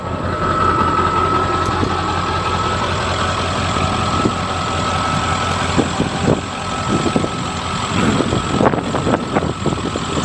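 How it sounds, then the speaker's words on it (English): A 1995 Ford F350 Super Duty XLT pickup with a gooseneck hitch runs at a steady, loud idle, its low diesel-like rumble continuous throughout, with a few knocks and clatters toward the end. "Running driving truck."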